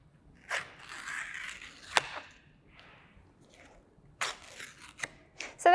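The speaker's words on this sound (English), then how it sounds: "And you're just going to start by tearing them into pieces" Dried artwork paper is torn into pieces in short, crisp ripping bursts separated by quiet gaps, close by, with a couple of sharper tears near the end.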